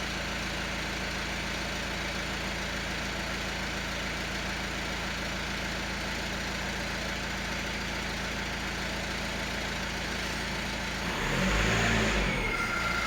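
A Peugeot Boxer van engine idles steadily up close without throttle, with a thin, high squealing whine from under the hood over the rumble, swelling briefly near the end.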